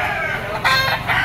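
A Gilmore straight comb gamefowl rooster at a livestock auction market crows in a drawn-out call, loud and close, with a second burst following, over background crowd noise.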